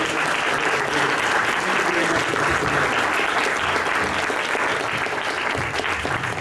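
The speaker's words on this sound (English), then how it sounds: "let's have a round of applause, please, for Debbie, Rebecca" An audience at an AHA panel discussion gives a round of applause, a continuous, even roar of many people clapping, loud and sustained for over six seconds.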